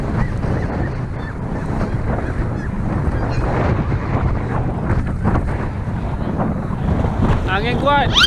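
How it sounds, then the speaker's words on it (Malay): Strong wind buffets a snowy mountaintop in Germany, a loud continuous roar and rumble of gusts hitting the microphone, with brief voices breaking through near the end. "Sekarang angin kuat."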